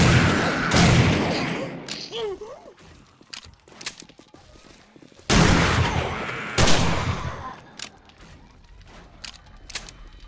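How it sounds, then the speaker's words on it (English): Shotgun blasts in the video game 7 Days to Die at night, several loud booming shots spaced a few seconds apart over game ambience and footsteps. "Shotgun shouldn't miss him that much."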